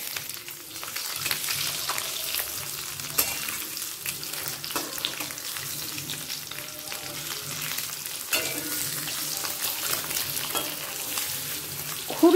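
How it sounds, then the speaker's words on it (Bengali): Eggs fry in a pan on their second side, giving a steady close sizzle and crackle with occasional light clicks and no talking. "অপর দিকটা ভেজে নেব"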